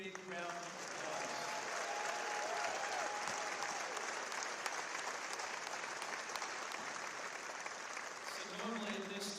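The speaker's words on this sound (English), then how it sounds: "Let's give them a big, big round of applause" A press conference crowd applauds the new K-State football coach's wife and four children, sustained loud clapping that swells and holds for several seconds with brief talk at the edges.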